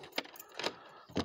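Keys jangle at the door of a glass-covered greenhouse in three short metallic bursts, close by and fairly quiet, with pauses between them and no speech.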